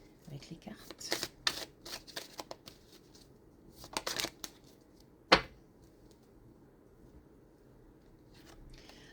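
Playing cards being shuffled, a series of faint riffling flutters and soft snaps with a sharp click, close but quiet, while a person speaks.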